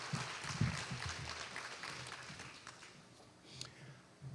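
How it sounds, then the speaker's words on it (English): Faint applause from a school ceremony audience honoring the 2023 Teacher of the Year, a soft, distant patter of clapping that holds steady and slowly fades. "If we could have one more round of applause for our 2023 Teacher of the Year, Ms. Tara Cuffey."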